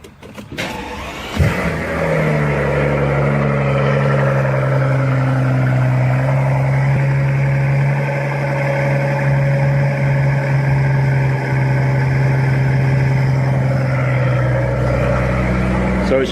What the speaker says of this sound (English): So I'm going to show you guys a cold start now with mufflers.